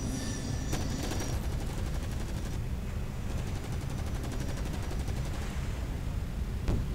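Sustained rapid gunfire in a video game, a dense burst of repeated shots aimed at a creature, loud and continuous over a constant background roar with a sharp crack near the end.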